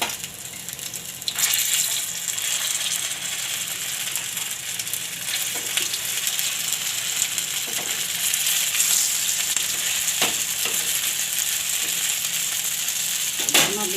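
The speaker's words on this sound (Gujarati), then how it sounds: "આ રીતે તેલ નાખતું જવાનું આપણે આમાં, એટલે સરસથી સડી જાય એમ." Poha and potatoes frying in oil in a pan, a steady close sizzle that carries throughout with occasional scrapes and clinks of stirring.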